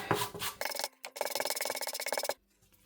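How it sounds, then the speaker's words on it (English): A nail brush scrubbing gel stain remover into a baby poo stain on clothing, giving quick rapid bristle rasps in a fast back-and-forth burst that breaks off briefly and then stops, close up. "take your nail brush and you just scrub the devil out of that stain"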